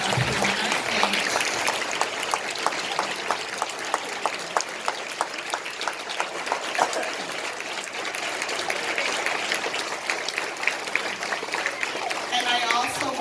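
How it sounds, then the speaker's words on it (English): Crowd at a salute to veterans and active military gives a sustained round of applause for veterans on stage, many hands clapping steadily at moderate distance, with talk over parts of it. "I want us all to give a round of applause to our veterans that are up here on our stage"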